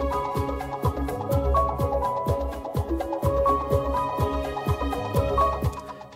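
Orchestral pulses from the Audio Imperia Legacy library, a film-scoring sample set, play as a steady repeating rhythmic figure of short accented string hits over a sustained low bed, full and continuous with no talking.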